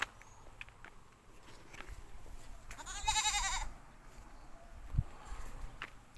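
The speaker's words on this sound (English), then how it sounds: "And there's a goat over here." A goat bleats once in a short, wavering call midway through, outdoors in a village setting, over a quiet background with scattered footsteps and a soft thump.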